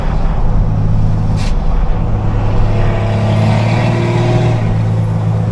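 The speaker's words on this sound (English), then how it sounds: "Oh, this truck gets loud when you're under load." A dually pickup truck's engine roars loudly under load, a steady, close, deep droning rumble that holds throughout with no talking.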